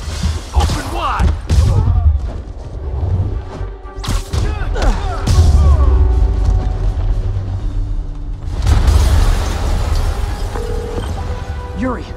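Explosion in a Spider-Man video game, heavy crashing booms and thuds amid loud rumbling action sound and game dialogue.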